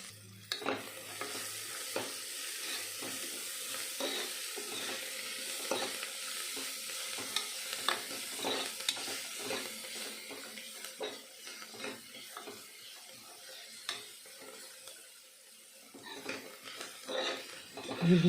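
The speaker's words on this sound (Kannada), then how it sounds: "ಪುದೀನ ಸೊಪ್ಪು, ಕೊತ್ತಂಬರಿ ಸೊಪ್ಪನ್ನ ಹಾಕಿ ಫ್ರೈ ಮಾಡ್ಕೊಬೇಕಾಗುತ್ತೆ ಎಣ್ಣೆಲಿ" Chopped mint and coriander leaves frying in oil for a tomato vegetable biryani: a continuous soft sizzle with frequent scraping stirs and clinks of a spoon against the pan.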